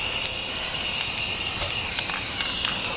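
Spray paint hisses steadily from an aerosol can onto allium flowerheads in a Wisconsin garden, a close, continuous spray with faint brief breaks.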